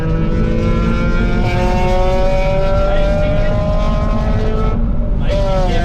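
Hyundai i30N fitted with a Forge cold air intake pulls in a low gear, its engine note rising steadily as a loud, continuous drone with climbing harmonics and a brief dip near the end, with the driver easing off and braking.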